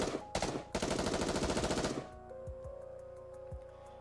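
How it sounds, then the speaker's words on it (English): A rapid burst of automatic gunfire in the video game Goddess of Victory: Nikke hammers for about two seconds after a couple of opening shots, then stops, leaving a few scattered thuds and a low hum. "is promptly assaulted by a hail of gunfire to its core"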